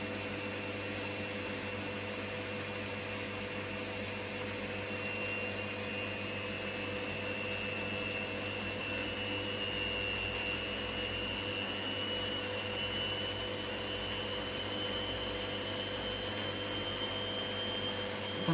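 An empty Candy washing machine spinning after a motor controller triac repair, giving a steady, fairly quiet whirring hum with rising whine tones, heard close and alone.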